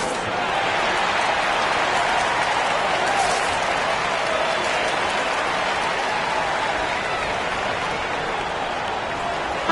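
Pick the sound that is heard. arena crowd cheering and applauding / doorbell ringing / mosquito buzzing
arena crowd cheering and applauding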